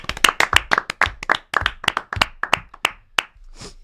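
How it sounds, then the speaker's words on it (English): A small group of people claps in a loose, uneven burst at a football discussion show, individual hand claps distinct and close, trailing off after about three seconds. "Round of applause for everyone that's turned up today."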